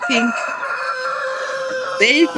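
Poultry chickens gathered together, clucking nearby while a rooster crows loudly at the start and again near the end, with continuous overlapping bird calls throughout.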